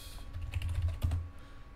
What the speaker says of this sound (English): I'm typing it into my address bar instead of the search for YouTube.